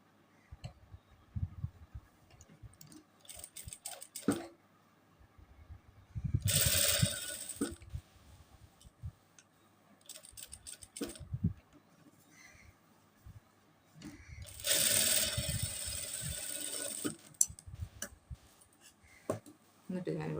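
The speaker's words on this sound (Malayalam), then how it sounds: "ഇവിടെ നിന്ന് ഇവിടെ വരെ സ്റ്റിച്ച് ചെയ്യാട്ടോ" A sewing machine stitches a kurta for a two-year-old boy in two short whirring bursts, separated by stretches of nearby talking and small handling clicks.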